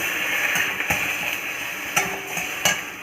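Chicken pieces stirred into a pot for a quick chicken stew with ginger paste, giving a steady close sizzle and frying hiss broken by a few scraping stirs and soft utensil knocks.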